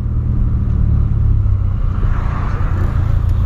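A Volkswagen Polo engine holds a steady, droning rev on its own instead of dropping back, a continuous close rumble without any break or speech.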